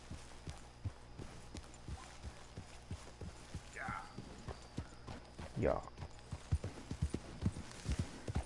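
Horse hooves clip-clop at a steady walking rhythm in Red Dead Redemption 2, soft and even, with a brief whinny-like sound and quiet ambient hum behind.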